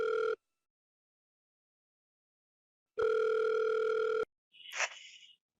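A telephone dial tone sounds as a call is placed for a TV show: a short steady burst, a long pause of silence, then a longer steady tone, followed by a brief, higher warbling beep.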